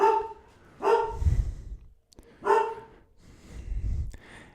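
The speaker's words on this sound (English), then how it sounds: "sorry for my dogs barking" Pet dogs barking indoors: two loud, sharp barks separated by pauses, with huffing breaths and low rumbling between them, fairly close by.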